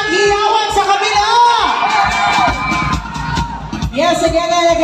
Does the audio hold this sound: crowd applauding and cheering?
yes